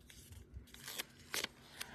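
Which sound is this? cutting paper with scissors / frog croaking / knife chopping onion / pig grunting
cutting paper with scissors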